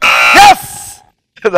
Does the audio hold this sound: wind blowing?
no